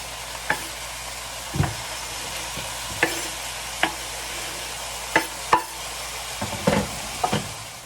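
Tomatoes being stirred into a Lebanese eggplant moussaka in a pan, giving a steady soft sizzle broken by repeated sharp knocks and scrapes of the spoon against the pan at uneven intervals, with no talking.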